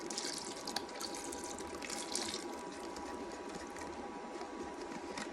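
Liquid being poured into a pot of vegetables for soup, a steady, moderately quiet splashing hiss that lasts the whole stretch.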